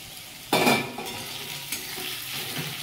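Onions frying in a pan for Bengali mutton kosha, a sudden burst of sizzle as they hit the hot oil, then a softer steady fry with a couple of stirring scrapes, close by.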